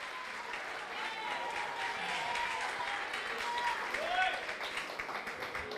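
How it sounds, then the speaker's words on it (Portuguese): Church congregation applauding in a steady, dense wash of clapping that runs throughout, with voices and shouts of worship mixed in over it. "Levante as mãos e aplauda a Ele."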